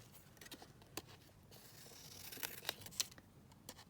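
Scissors trimming around a paper faux postage stamp, a few quiet sharp snips at close range, faint and sparse against near silence.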